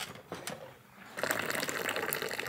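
Tea is poured into a glass, a short trickle followed by a louder, steady splashing stream, close and without talk.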